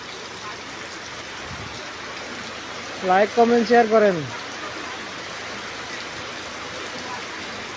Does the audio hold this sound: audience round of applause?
no